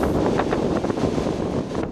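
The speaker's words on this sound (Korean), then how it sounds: "인도 동부 웨스트 벵골주의 한 마을에 거대한 회오리 바람이 다가옵니다" Strong tornado winds roar and buffet steadily toward a village in West Bengal, India, a dense continuous rush of gusting air with no voices.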